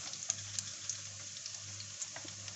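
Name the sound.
cumin and cardamom sizzling in hot oil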